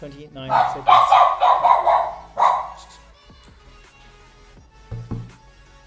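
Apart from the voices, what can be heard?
dog barking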